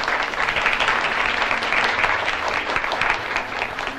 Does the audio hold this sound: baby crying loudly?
no